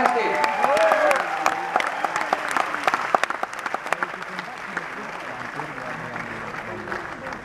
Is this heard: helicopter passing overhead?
no